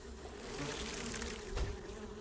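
Bees buzz in the 7 Days to Die video game, a continuous droning hum that swells slightly, close and moderately loud, with no talking.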